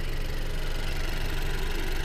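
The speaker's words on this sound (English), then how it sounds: "You can just hear a whole bunch of little ticking. That's normal. That's the injectors, the little direct injectors inside the combustion chamber injecting gas." A 2018 Honda CR-V EX-L's small turbocharged engine idles with a steady, close, even hum, with the light ticking of its direct fuel injectors running underneath and no talking.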